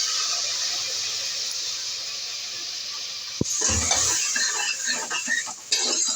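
Horse gram frying in a pan over a steady hiss, with a sharp knock near the middle and then scraping and stirring clatter.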